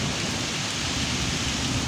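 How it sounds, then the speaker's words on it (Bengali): Dense, loud roar of heavy rain in a storm, a continuous broadband wash with no pauses and no voices. "আর ঝড় হচ্ছে দেখো"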